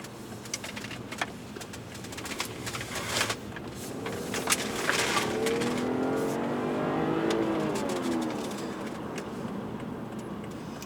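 A G30 BMW 540i xDrive with automatic gearbox revs toward its high redline on a night drive, the engine note climbing steadily and swelling into a sustained high-RPM drone heard from inside the car.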